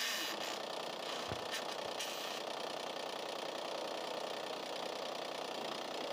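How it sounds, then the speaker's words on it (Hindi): A Powertrac Euro 50 tractor with a gearbox problem runs in gear, its engine a steady, close rumble with a couple of brief knocks early on. "अब इसको चला के देखते हैं, रिवर्स गियर डाल के देखते हैं"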